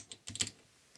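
Short burst of typing on a new A1200.net mechanical keyboard for Amiga computers: a few crisp, close clicky keystrokes, then a pause and one last light tap.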